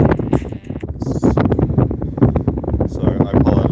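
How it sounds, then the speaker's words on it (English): Gusty wind blowing across an open field buffets a sheltered microphone, a steady low roar and rumble lasting throughout with bursts of rustle, and someone talking over it. "the wind sort of blows right across the field that's across from me"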